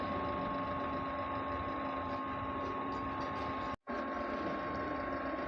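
Printer running a head cleaning cycle, a steady mechanical whirring and ticking drone with a constant tonal hum, close and moderately quiet, with one abrupt brief cutout near the end.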